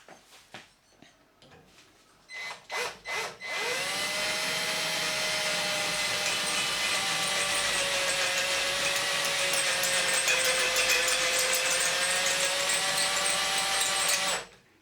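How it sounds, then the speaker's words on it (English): A drill bores through a tough steel grub screw set in stainless steel, starting with a few short spin-up bursts, then a loud, sustained whine with a shifting pitch for about ten seconds before cutting off. "We're actually trying to drill through the steel and the stainless steel there at the same time"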